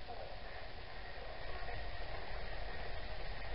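Steady hiss of white noise as a radio scanner sweeps through channels during a paranormal investigation in Dorothy, Alberta, a constant loud static texture with faint low rumbling underneath.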